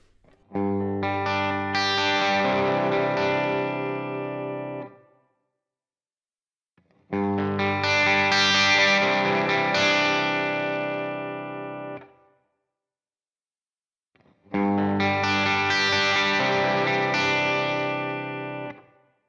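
An electric guitar strummed three times through a Headrush MX5 multi-effects unit on a clean preset, each chord ringing out with a shimmering, effected sustain and fading before the next, separated by short silences.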